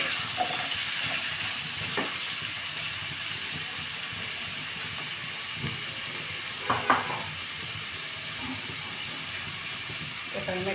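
Mixed vegetables with papaya frying in a pan, a steady soft sizzle with occasional clinks and scraping stirs, close by and without speech.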